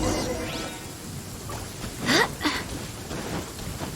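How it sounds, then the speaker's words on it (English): Rain falls steadily in a Genshin Impact thunderstorm, with a rushing whoosh of lightning and a rumble of thunder near the middle, under faint background game sounds. "Uh-oh! Lightning storm!"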